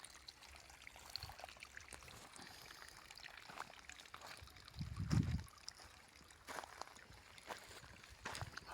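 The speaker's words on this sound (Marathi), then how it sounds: "सऱ्यांना पाणी चालू आहे ऊसाच्या बिना मोटर बिना लाईट सायपन पद्धतीने" Water flows through sugarcane furrows fed by siphon irrigation with no motor, making a soft, quiet trickling and pouring. A brief, louder gurgle rises partway through.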